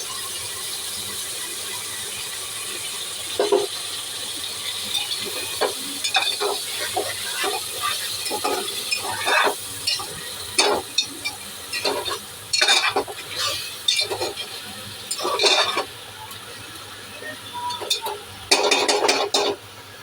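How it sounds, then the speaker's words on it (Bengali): Spiced meat for Bangladeshi-style kacchi biryani fries in a pan under a constant sizzle, with repeated sharp spatula scrapes and squeaks as it is stirred. "দিয়ে আমি ভালো করে কষাবো যতক্ষণ না তেল ছাড়বো"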